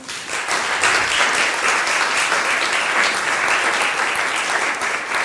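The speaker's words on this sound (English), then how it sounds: "Round of applause." Summit audience applauding a partnerships panel, a loud, dense and sustained round of clapping from a full room, even throughout with no talk over it.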